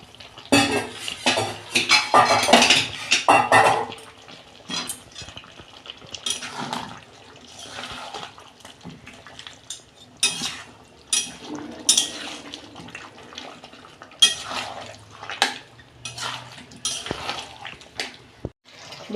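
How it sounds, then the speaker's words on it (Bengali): Potatoes going into a frying mutton curry, with clattering pot and spoon knocks, scraping and stirring in a home kitchen; loud busy clanks at first, then sparser scrapes and taps, near and without talk. "আলু দিয়ে দিচ্ছি।"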